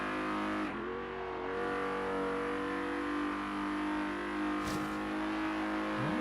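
A Quartz Regalia luxury car racing in Forza Horizon 3, its engine holding a loud, steady, high-pitched whine with a brief dip as it shifts near the start, continuous and close, with no talking.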